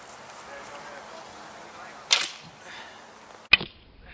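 An arrow loosed from a longbow strikes a sandbag with a sharp impact a little after two seconds, followed by a second hard hit near the end, both standing out over a low, quiet background.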